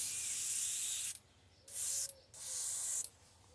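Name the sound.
spraying green paint on a crankbait lure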